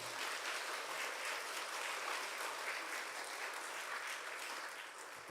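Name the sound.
church congregation applauding to welcome missionary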